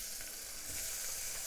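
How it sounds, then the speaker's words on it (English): Frying oil hisses and sizzles in a pan as a noodle sauce starts cooking, a soft, continuous crackle at low volume that swells slightly at the end. "also nice frying sound"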